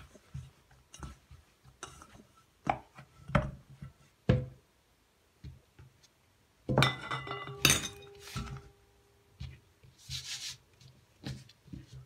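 A fork mixing biscuit dough in a bowl makes irregular clinks, knocks and scrapes against the bowl, arriving in short bursts separated by brief quiet gaps, with a busier cluster midway.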